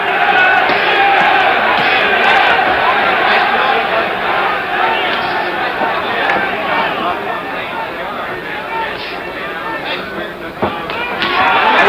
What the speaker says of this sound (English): Mildenberger is chasing him well here, but not really connecting, as the roars of the crowd might lead you to believe